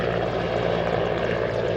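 Indian Air Force firefighting helicopter hovering over a burning ship at sea during an air power demonstration, its rotor and engine roar loud, steady and continuous with no voices.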